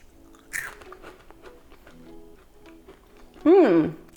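Crunchy oven-roasted chickpeas coated in olive oil are bitten and chewed close to the mic, with a sharp crunch near the start, softer chewing after, and a brief voiced sound at the end.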